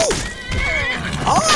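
A horse in the video game Skyrim gives a short, loud whinny, with a second shrill neigh near the end of the brief burst.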